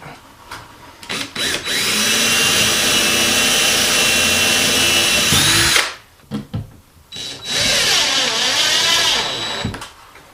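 A power drill whirs loudly for about four seconds as it drives a screw through a drywall patch into the wall, then stops, followed by a short second burst after a few quieter clicks.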